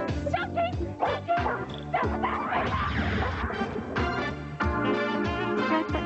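A dog barks repeatedly in quick yaps and bow-wows, loud and close, with a crash partway through and other voices mixed in.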